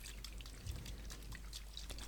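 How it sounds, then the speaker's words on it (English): Table salt poured into a container of water during a home science experiment, giving a soft continuous trickling and pouring sound with faint splashy crackle, close and quiet, with no talking. "when we add table salt or sodium chloride to water"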